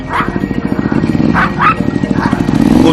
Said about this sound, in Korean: 오토바이가 등장하자 곧바로 짖기 시작하는 두부.